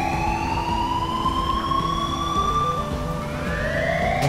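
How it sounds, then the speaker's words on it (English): An emergency siren in a video game wails continuously with a steady rising and falling tone, some distance off, with engine rumble underneath and no talk. "That siren needs to go away,"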